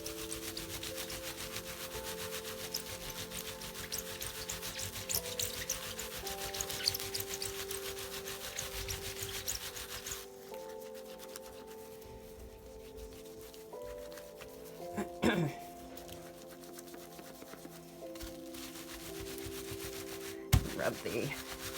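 Steady close rubbing and scuffing of a felted wool rock, a soft continuous friction texture with occasional brief sharper scrapes near the end and no speech.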